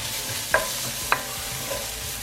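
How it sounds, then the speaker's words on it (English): Chopped onion sautéing in heated olive oil in a pot gives a steady, even sizzle, broken by two sharp clicks of a utensil about half a second apart. "I'm gonna add in the onion and saute that for a couple minutes"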